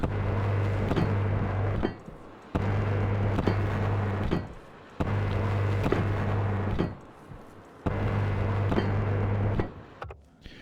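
A welder tool joining frames in Stationeers, the space-survival game: four steady buzzing welding bursts, each about two seconds long, with short quiet gaps between them, close and fairly loud.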